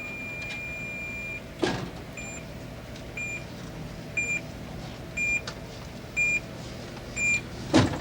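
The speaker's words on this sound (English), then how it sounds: "And now they've got Beeper, the electronically controlled robot mailman" An electronically controlled robot mailman moving through an office: a low motor hum runs throughout while a two-tone electronic beep repeats about once a second, with a few louder mechanical thumps and whirs, and no talking.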